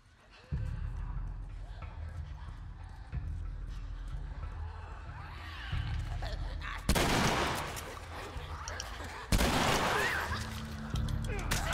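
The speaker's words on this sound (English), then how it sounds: "I'm bringing a shotgun out from the start" Two loud, booming shotgun blasts from The Last of Us Remastered ring out several seconds apart, each with a heavy decaying tail, over in-game ambience and someone talking.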